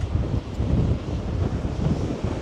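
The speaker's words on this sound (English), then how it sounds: "But I can certainly feel the wind." Strong wind buffets the microphone on the Blackpool seafront ahead of Storm Lilian, a loud low rumbling roar with surging gusts and a hint of surf beneath, no voices.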